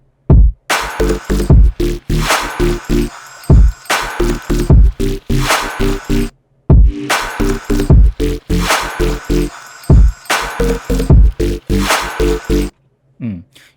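Homemade granular synth sounds set in a piece of music: choppy, stuttering bursts of grainy tones in a repeating rhythmic pattern, loud and up front, with short gaps of silence between phrases.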